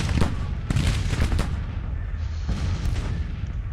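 Gunfire rattles through a video game battle, with dense overlapping shots and heavy booms in quick irregular bursts, loud and continuous, with no talking.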